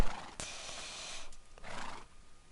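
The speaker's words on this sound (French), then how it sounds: "Donc on va mettre un cheval." A horse in a farm video game lets out a faint, breathy whinny in a few drawn-out bursts, quiet and alone with no one talking.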